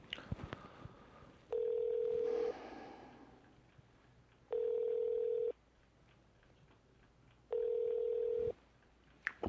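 A telephone rings three times, each long steady tone spaced about two seconds apart, with no pickup, over a quiet room with faint background rustle.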